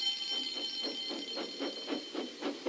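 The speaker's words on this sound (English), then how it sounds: "Soon came the alarm." An alarm sounds in a Thomas the Tank Engine story as James goes off the line, with steady high tones over a regular pulsing ring, about ten beats in under three seconds, fairly close and alone.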